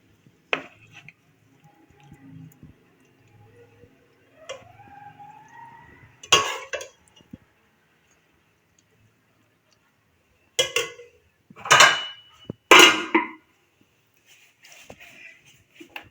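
A cooked dry vegetable dish is served from a pot, with scattered clinks and scrapes of utensils and a few louder metallic clatters near the end, otherwise quiet.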